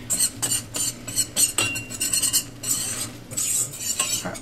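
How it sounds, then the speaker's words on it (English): A spoon scrapes and stirs a butter and flour roux in a pan, giving a run of close, rhythmic metallic scrapes and clinks with short pauses between strokes. "You want to keep stirring this."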